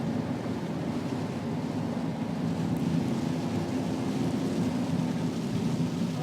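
Kia Rio 1.1 CRDi 75 hp diesel engine running steadily, a continuous low, even drone with a broad rushing hiss, moderate and unchanging throughout with no talking over it.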